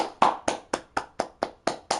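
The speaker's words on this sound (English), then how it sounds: "Everyone, round of applause." Nine evenly spaced hand claps in a quick steady rhythm, close and crisp, from a single person rather than a crowd.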